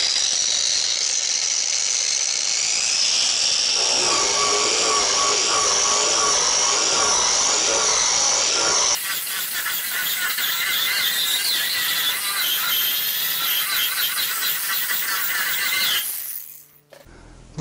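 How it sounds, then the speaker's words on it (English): A power-driven wire brush wheel scours a wooden faux beam, giving a loud, continuous whirring and scratching that shifts in character partway through and cuts off near the end. "Just takes a light pass with that wire wheel."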